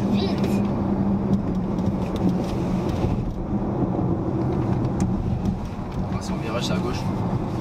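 A DS N°8 electric car accelerating inside its cabin: a steady, loud low rumble of road and motor noise with a faint whine, rising slightly over several seconds, with some voices in the background.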